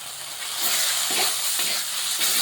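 Steady hissing sizzle from a leafy green dish in a hot pan as sugar is stirred in, with soft scraping of the spoon under the continuous frying sound.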